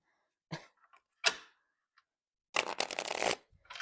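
A thick deck of cards being handled and shuffled: a few short snaps and riffles, then a dense, loud riffle shuffle lasting under a second, close and alone.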